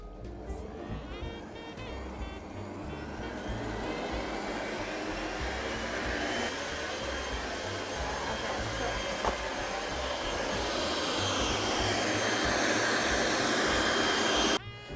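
An electric mixer runs at medium-high speed beating charcoal choux pastry dough, a loud continuous whirring drone that grows slightly louder and rougher toward the end before cutting off.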